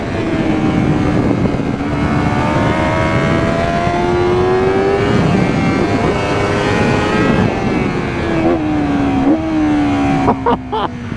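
A 2024 Honda Fireblade SP sport motorcycle engine revs loudly and steadily, its high-pitched tone rising and falling through gear changes, close and continuous throughout.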